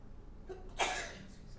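During a city council finance and economic development committee meeting, a single sneeze or sharp cough bursts out in the room, brief and moderately close, against a quiet background.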